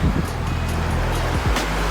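Ocean surf washes onto a beach, a broad steady roar with wind buffeting the microphone, recorded up close and continuous without talk.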